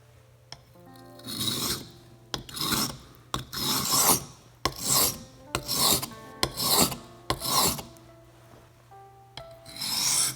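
A kitchen knife is drawn repeatedly across a 1000 grit sharpening stone, giving about eight rhythmic rasping strokes with short pauses between them, close and clear with no talking.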